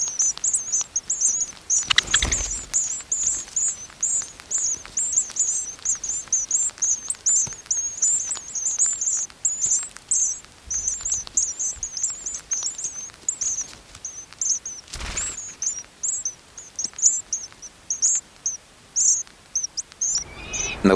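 Lapland longspurs, a family of small passerines on the Yamal tundra, call in a steady stream of high, rapid chirps throughout, with a few brief louder broadband bursts standing out against a quiet background.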